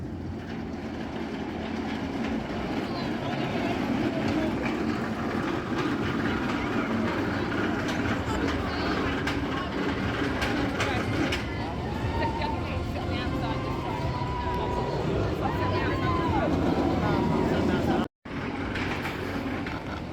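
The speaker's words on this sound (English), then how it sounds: "Back round for the Nemesis Reborn ride again." The Nemesis Reborn roller coaster train at Alton Towers rumbles and rattles steadily along its track with clattering wheels, a continuous loud roar under crowd chatter and voices, cut off briefly near the end.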